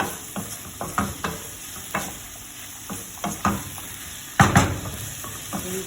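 Bitter gourd, mushroom and egg stir-fry in a pan, a steady sizzle broken by repeated scraping stirs and knocks of the utensil against the pan, loud and close with no talking.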